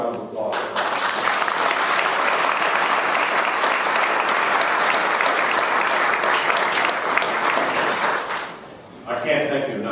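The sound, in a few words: audience applause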